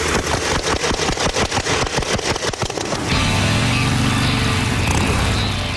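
A Thor SR motorcycle engine being pedal-started: rapid rhythmic chugging turnover pulses for a few seconds, then the engine catches and settles into a loud, close, steady running roar.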